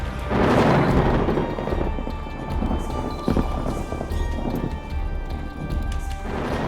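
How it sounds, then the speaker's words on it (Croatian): A deep roll of thunder swells early on, then fades into steady rain, with low rumbling continuing beneath. "U tom trenutku grom je presjekao nebo."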